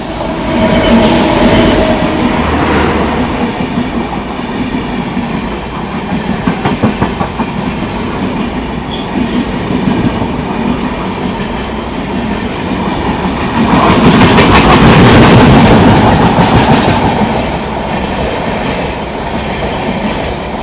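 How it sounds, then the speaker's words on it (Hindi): The Ernakulam Pune Express, a passenger train, passes close at a railway station in the Konkan region, a loud steady roar of rolling wagons with rhythmic clickety-clack of wheels that swells again toward the end, with no talk. "ये थी एर्नाकुलम पुणे एक्सप्रेस।"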